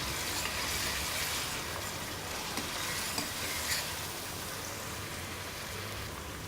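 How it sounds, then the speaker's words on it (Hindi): Ginger garlic paste sizzles as it sautés in a karahi pan for chicken karahi, a dense continuous frying hiss with faint stirring clicks, steady and close throughout. "अब इसको भी थोड़ा सौते होने देंगे। ताकि इसका कच्चापन ख़त्म हो जाए।"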